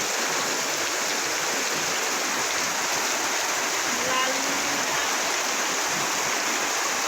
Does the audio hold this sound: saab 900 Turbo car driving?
no